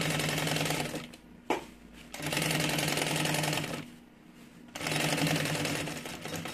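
A sewing machine stitches a seam on a mini backpack in loud, rapid bursts, pausing twice briefly before running steadily again close by.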